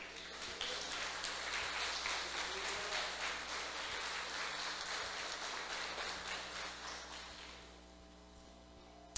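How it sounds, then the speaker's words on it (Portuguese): A church congregation claps during a Portuguese-language sermon, a sustained, moderately loud roll of applause that thins and fades near the end. "Ele merece um aplauso"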